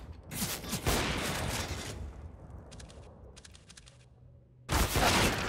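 Gunfire in CS:GO, with dense bursts of shots in two loud clusters at the start and end and a few sharper isolated cracks in the quieter middle stretch.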